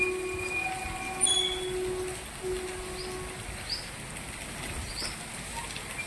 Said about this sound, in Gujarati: ટ્રેન આવે છે ટ્રેનનો અવાજ આવે